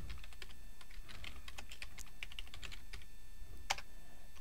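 Light, quick keystrokes on a computer keyboard while entering data into a spreadsheet field, an uneven patter of soft clicks with one sharper tap near the end, heard alone and up close.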